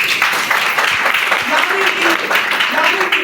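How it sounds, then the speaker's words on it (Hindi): Audience applause rises right after a teacher-style talk calls for a loud clap, a dense burst of many hands filling the room, with some voices and a few tonal calls mixed into the clapping. "एक दिन में जोरदार ताली होनी चाहिए।"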